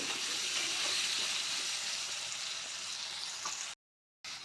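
Potato pieces frying in oil on a gas stove at medium flame, a steady close hiss of sizzling that runs throughout, broken by a brief total dropout near the end.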